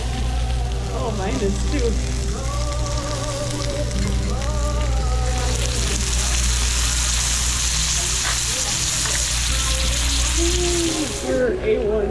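Steady sizzling of food on a hot surface, loud and continuous, with people chatting over it throughout.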